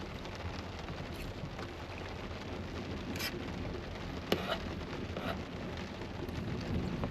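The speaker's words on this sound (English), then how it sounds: "storming pretty good out there" Heavy rain drums steadily on the shell of a truck camper during a nighttime thunderstorm, a dense constant wash with a few sharp drips and cracks breaking through near the middle.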